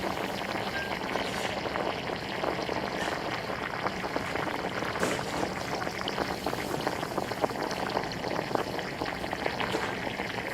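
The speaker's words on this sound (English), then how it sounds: "banana pulp is cut into small pieces without grinding and fried directly in" Banana pieces fry in hot oil at a banana chip factory, producing a dense, continuous bubbling and sizzling roar that stays steady throughout.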